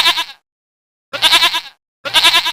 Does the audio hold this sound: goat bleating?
yes